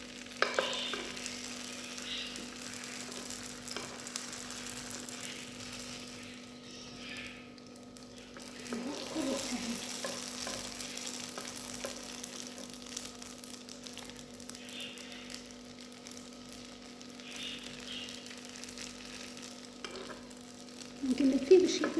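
Bourek filling fries in oil in a pan while being stirred, a soft continuous sizzle with scattered scraping and crackling, moderately quiet over a faint steady hum, with no talking.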